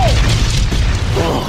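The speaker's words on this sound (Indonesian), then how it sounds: "Ledakan besar pun terjadi menghancurkan seluruh kota babi yang besar." Dynamite explodes in the Angry Birds movie (2016), a loud, dense boom with crashing debris that fills the whole brief moment, with no speech over it.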